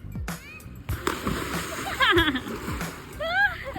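Someone jumps into a swimming pool, and splashes and sloshing water are heard close up amid excited chatter and laughter from people nearby.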